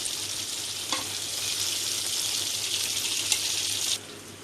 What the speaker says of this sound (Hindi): अभी देखो, मैं मच्छी पलट रही हूँ